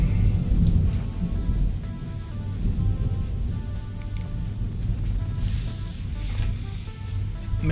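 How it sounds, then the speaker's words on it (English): Steady rain falls with low rumbling thunder rolling underneath in a fantasy game scene, a dense continuous wash with no one talking. "It's raining again!"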